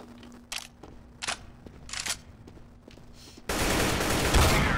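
AK rifle fire in the game CS:GO: a few spaced, sharp game sounds over a steady tone, then a sudden loud, dense burst of automatic fire that continues to the end.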